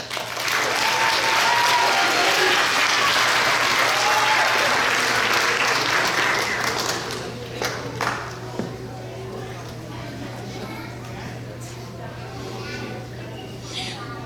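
At a school district board meeting, a crowd claps for students in sustained applause that swells and then fades out after several seconds, leaving quieter room noise with faint scattered claps and a steady low hum.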